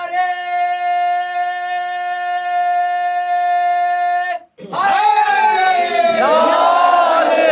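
A Muharram majlis congregation loudly chants a religious slogan in unison, a sustained, powerful wall of massed voices that breaks off briefly, then surges back as a ragged, swelling crowd shout.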